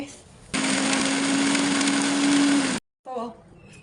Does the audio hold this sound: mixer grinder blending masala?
yes